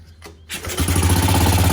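A Suzuki LT125 quad runner engine cranks briefly and catches, settling into a steady, loud, close idle with a throbbing low rumble.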